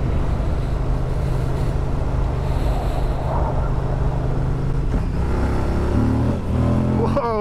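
A 2023 Moto Guzzi V100 Mandello motorcycle engine droning steadily on an undulating road, with strong wind rush and a change in engine tone near the end.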